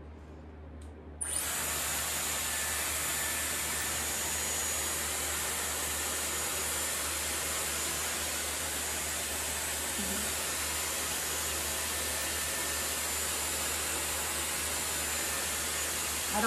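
A Dyson Airwrap blows hot air while curling hair, a steady loud whooshing hiss that starts abruptly after a second and runs unbroken and close.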